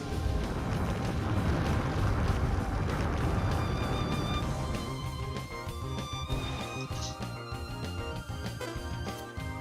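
Fire spell explosion in the Baten Kaitos role-playing game, a loud roaring rumble for several seconds that then trails off into ringing, chiming magical tones with a musical backing.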